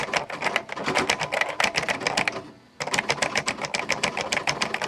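A Panasonic KX-W1525 daisy-wheel word processor types in a fast, dense rattle of sharp strikes, pausing briefly for a carriage return before the clattering resumes, close and loud with no talk.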